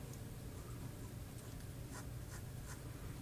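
A firm 14 karat nib fountain pen, inked with Diamond Sepia, scratches across paper in quiet, close strokes, with a few sharper scrapes near the end and no voices.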